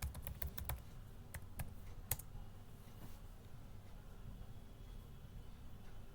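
A password is typed on a computer keyboard in quick, light clicks over a low room hum. The keystrokes cluster in the first two seconds, and after that only the faint background remains.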